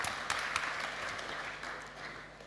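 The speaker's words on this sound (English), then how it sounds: "Please welcome with a round of applause." Audience applause fills a conference main stage at a startup fair, a steady wash of many hands clapping throughout, moderately loud, with no talk over it.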